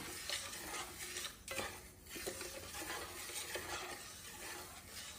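Sugar and water cook into syrup in a frying pan over medium heat, a soft, steady sizzling hiss with faint scraping of a stirring utensil, quiet and close.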